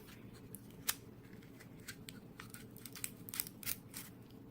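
Crinkly snips and rustles of a wrapper being peeled open on a homemade Reese's-style peanut butter cup, quiet and close, in a few short separate bursts with no talk.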